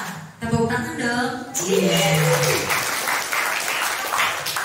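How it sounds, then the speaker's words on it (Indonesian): Audience applause at an Islamic gathering in a Ramadan clinic event, dense sustained clapping from a crowd throughout, with a brief voice and tonal sound near the start. "Tepuk tangan dong."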